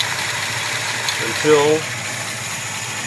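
A Studebaker engine with a four-barrel carburetor idling at a low, steady rumble, with someone briefly talking over it.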